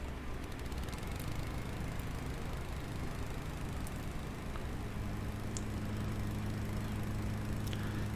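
A lawnmower engine in the video game Rising Star 2 drones at low volume, a steady idling hum with a few faint ticks, no voices.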